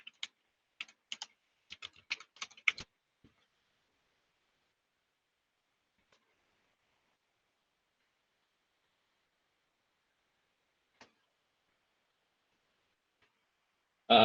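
Quick close keystrokes on a computer keyboard as a wallet password is typed, a short burst of a dozen or so clicks in the first three seconds, then near silence broken by a single faint tap and a louder clatter at the end.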